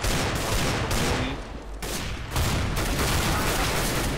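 Shotgun blasts in the video game Counter-Strike: Global Offensive, a dense run of loud, close gunfire reports in quick succession with brief gaps between bursts.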